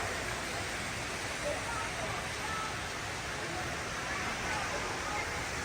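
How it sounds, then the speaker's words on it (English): Water rushes steadily from a resort water slide and pool at a beach condo, a constant loud broadband wash with no pauses. "we have a water slide, and there are kids on it right now."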